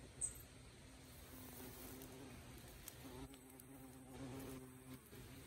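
A soft, steady buzz of bees at a hive hums continuously, faint and fairly close, with small shifts in pitch as wings drone on.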